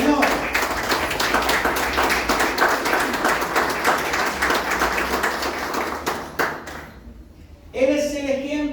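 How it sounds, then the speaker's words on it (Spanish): Church congregation clapping in a sustained burst of applause for about six seconds, fairly loud and reverberant, fading out before a voice resumes speaking at the end. "Den un fuerte aplauso al Señor"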